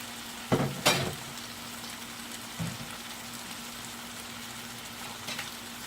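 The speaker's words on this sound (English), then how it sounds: "This is the calamari I'm frying." Calamari sizzles quietly in hot oil as a constant soft crackling hiss, with a couple of louder pops and clinks near the start.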